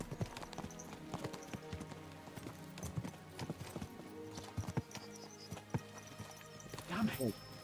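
Horses in Kingdom Come Deliverance clatter along in steady, close clip-clop hoofbeats with an occasional whinny, running under a voice that speaks over them.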